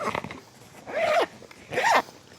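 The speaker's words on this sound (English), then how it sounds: "And then the whole thing just zips right up, like so." An electric inflation pump's carry bag being zipped shut, two quick rasping zipper pulls close to the listener, each lasting about a third of a second with a short pause between, after some faint handling noise.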